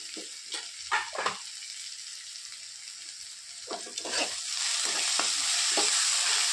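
Onions sautéed in a pan with coriander, coriander powder and turmeric: scraping stir strokes come in short bursts over a steady sizzle that grows louder toward the end, with no voices.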